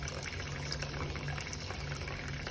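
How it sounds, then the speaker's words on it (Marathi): Water pours steadily into a storage tank fitted with a float valve, a soft continuous rushing flow heard at low level throughout. "इथे आता बघा हे पाणी आपोआप पूर्ण बंद होईल"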